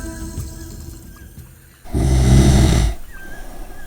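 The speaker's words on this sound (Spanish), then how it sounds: "que está usted roncando en mitad de la clase, hombre." A man snores loudly in the middle of a class, one long, heavy rasping snore standing out from quieter room noise before and after.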